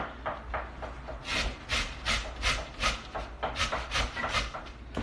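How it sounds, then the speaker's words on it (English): Scrubbed russet potatoes rubbed down the coarse side of a metal box grater, a steady run of rasping strokes in a quick rhythm, close and fairly loud, with no talking. "I'm going to use the thick part of the box grater"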